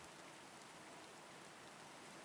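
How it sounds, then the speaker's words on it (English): A soft rain sound effect plays during a Pathfinder tabletop game session, a faint, even patter of drops that holds steady with nobody speaking over it. "I don't need that rain today. I need this rain."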